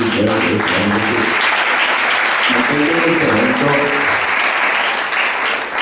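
A church congregation claps loudly and steadily through the whole stretch, with a voice speaking over the clapping at the start and again midway.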